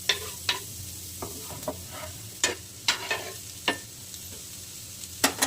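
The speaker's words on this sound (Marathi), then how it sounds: "फोडणीला टाकणार आहोत नाही का." Chopped onion dropped into hot tempering oil, where it sizzles with a steady hiss and is stirred, giving soft scrapes and clicks at irregular intervals. The sound is fairly quiet, with no voices.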